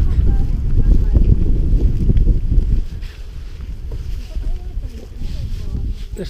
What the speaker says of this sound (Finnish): Nyt rupesi tuuli käymään.